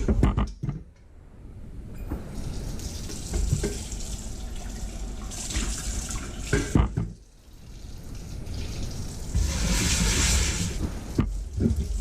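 Tap water runs over a cast iron pan in a sink, a close splashing rush that drops out briefly in the middle and returns, with scrubbing splashes and no talk.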